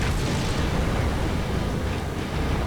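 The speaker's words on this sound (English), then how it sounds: "throw some grenades out there" Grenade explosions in Halo 2's Metropolis level make a dense, continuous rumble of loud blasts that roars without a break for nearly three seconds.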